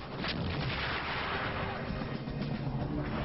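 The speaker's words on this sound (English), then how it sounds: "German 88mm guns take out Soviet tanks at long range" German 88mm guns firing at Soviet tanks at long range in a World War II battle, heard as a continuous, dense rumble of artillery fire and gunshots, loud and sustained throughout with no clear separate reports.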